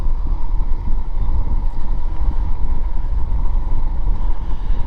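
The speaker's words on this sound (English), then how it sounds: "But you can hear them tires singing" Tires of a Magicycle Cruiser e-bike hum on blacktop while riding, a steady loud low rumbling drone with a faint tonal whine, mixed with wind buffeting the microphone, continuous throughout with no talking.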